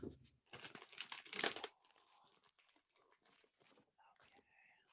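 Plastic packaging crinkles and tears loudly for under two seconds while a Magicraft white box (Rest in Pieces) is cut open with scissors, then faint handling noises continue under soft, quiet speech.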